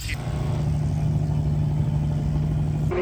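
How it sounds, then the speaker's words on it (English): An old-school drag race car's engine idles steadily at a street race event, a loud, continuous low rumble with a constant tone, cutting off abruptly near the end. "Carl was warming up the engine"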